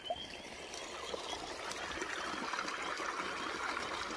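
Water trickles and burbles over obstacles in a small stream during an evening walk, a steady soft wash that holds at an even level throughout.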